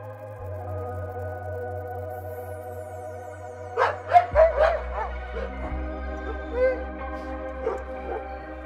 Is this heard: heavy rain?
no